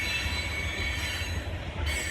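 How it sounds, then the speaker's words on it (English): A train slowing down near a beach rumbles steadily with high, sustained wheel squeal over a low rolling drone, loud and continuous throughout with no talking. "It looks like the train is slowing down."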